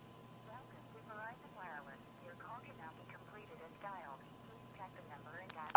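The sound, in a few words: telephone system announcement for an invalid dialed number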